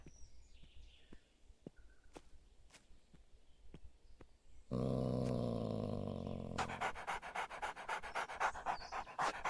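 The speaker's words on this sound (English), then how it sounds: "Find the dog near the shed." A dog's rapid panting in the video game Open Country, near a shed, starting quiet with faint ticks and then becoming loud, steady and close for about five seconds of continuous breathy huffing.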